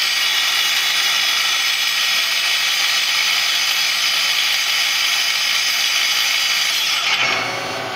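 Citizen L2016 CNC Swiss lathe with its main spindle running at 3500 RPM, giving a loud, steady mechanical whir with a high whine that drops off near the end.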